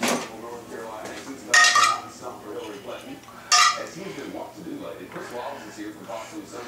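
A spoon scooping sauce from a pot for acorn squash lasagna, with two bright metallic clinks against the pot among softer scraping and handling while a voice talks.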